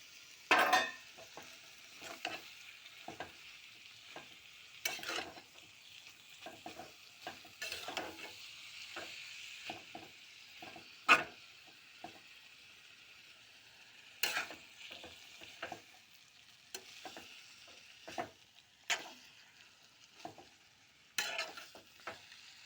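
Boiled noodles being stirred in a small wok, quiet sizzling broken by irregular sharp scraping strokes of the utensil, close and with no speech.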